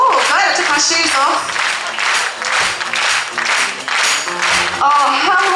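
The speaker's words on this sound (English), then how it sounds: "Keep clapping." An audience claps along in steady rhythm at a country concert performance, the loud repeated claps running through the clip beneath singing and music.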